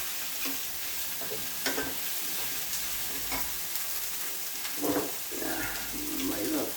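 Steady hiss and crackle of food sizzling in a hot pan, with occasional stirring scrapes, close up and continuous.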